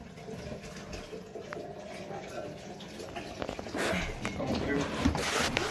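Water runs steadily from a toilet water feed pipe into a bucket, a continuous rushing splash that grows louder and fuller toward the end, with speech heard over it.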